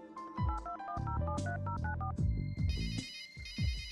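A telephone in the Runaway: A Road Adventure video game plays a melodic electronic ringtone, quick plucked notes in a bright repeating pattern, followed by a sustained high trilling ring, loud and alone.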